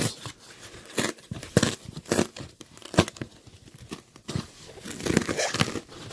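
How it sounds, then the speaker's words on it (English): Fabric peeled by hand away from hot glue on a custom mascot head makes close, crackling rips in uneven bursts separated by short pauses. No one speaks. "I'm going to start pulling away from this glue."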